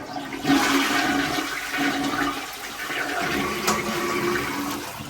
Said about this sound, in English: the toilet's filling up with water